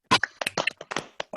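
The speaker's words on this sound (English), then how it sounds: "If I could just have a quick clap" Scattered clapping from online participants unmuted on a video call for panelists, about eight separate claps at uneven intervals, close and sharp with gaps of quiet between them.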